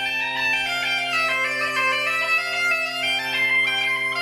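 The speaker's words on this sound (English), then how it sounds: "The sound you can hear in the background is the Galician gaita, or Galician bagpipes." Galician gaita bagpipes play a sustained drone-backed melody outdoors, echoing through old town streets. The music is steady and moderately loud, with no talking.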